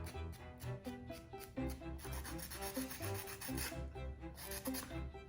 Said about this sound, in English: I just use a regular old nail file just to smooth off the edge that I just cut.